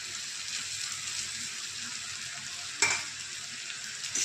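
Eggs frying in a pan, a steady close sizzle that runs evenly throughout with a brief sharper crackle near the end.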